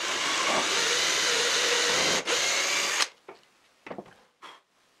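A drill bores into melamine-faced particle board with a steady, loud whirring grind for about three seconds, then stops abruptly, followed by a few short scraping and handling knocks.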